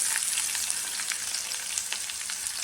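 Garlic, curry leaves and spices sizzle steadily in hot oil for a South Indian tempering, a close, continuous crackle with small pops and no voices.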